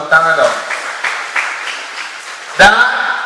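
Audience applause at a talk on blogging and social media branding for teacher bloggers, clapping rising under a presenter's voice and swelling again briefly near the end.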